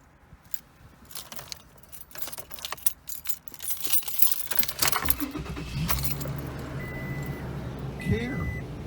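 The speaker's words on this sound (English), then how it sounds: "So let's fire up the truck and give it a go." Keys jangle near a Toyota truck, model years 2005–2014, before its engine cranks and starts, then settles into a steady, quiet idle with a brief high tone near the end.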